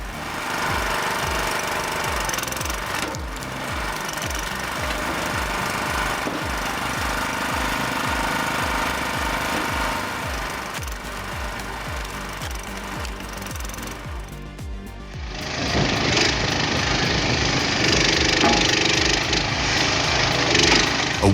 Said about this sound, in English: Its 9-ton splitting force can handle even the most challenging logs with precision